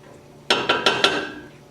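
A spoon knocking against a pan while sauce is mixed over stuffed beef burgers on a stove, four bright metallic clinks in quick succession, close and clear, each ringing briefly.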